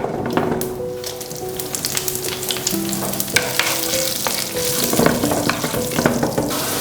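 Dried red chillies and curry leaves fry in hot oil for vermicelli upma, a continuous close sizzle with frequent small crackles and spits, with occasional stirring scrapes in the pan.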